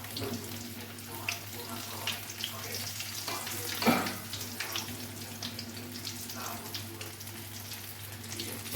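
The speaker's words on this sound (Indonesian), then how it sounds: "Goreng singkong." Cassava pieces frying in hot oil at home, a steady low sizzle with faint clinks and splashes near the microphone, no talking.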